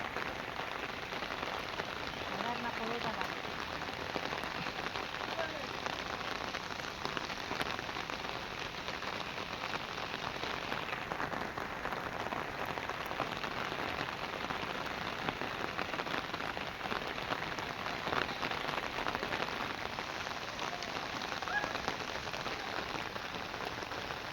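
Rain falls steadily and evenly for a long stretch over Konkan rice fields, a continuous close hiss of drops on surfaces with no voices.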